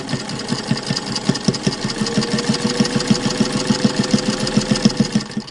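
A sewing machine stitches the seams of a muslin five-layer face mask, its needle hammering in a fast, steady rhythm close by, with no voices over the mechanical chatter.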